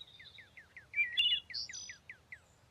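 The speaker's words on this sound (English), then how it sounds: "All the birds." A flock of wild birds calling overhead in a forest, a rapid steady series of short descending chirps with a few brighter overlapping calls, fairly faint against a soft background hiss.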